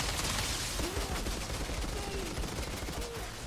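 Gunfire from a double gun in the video game Outriders, a dense, continuous crackle of rapid shots with a few short whistling tones, steady and fairly loud throughout.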